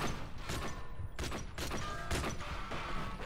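Automatic gunfire in the Call of Duty Modern Warfare 3 Spec Ops mission, several fast bursts of shots cracking loudly over a steady game background, close and dense, with no talking.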